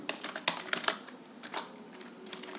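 Fingers tap quickly on a computer keyboard while writing C++ program code, a close, uneven run of light clicks with no talking.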